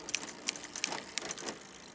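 A bicycle chain lightly rubs against the front derailleur cage on the big chainring, producing faint, quick rhythmic ticking and scraping as the cranks turn.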